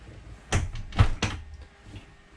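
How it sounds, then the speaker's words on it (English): An RV door on a Primetime Avenger 26 DBL travel trailer is swung shut, giving a few close, solid thumps and a latch clack within about a second, with no talk. "I'm going to go ahead and close the door here."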